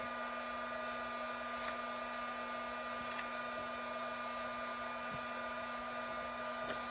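An embossing heat gun runs continuously during a cracked-glass crafting project, making a quiet, even whirring hum with a steady tonal whine and no talk.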